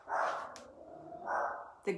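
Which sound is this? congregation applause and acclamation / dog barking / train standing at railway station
dog barking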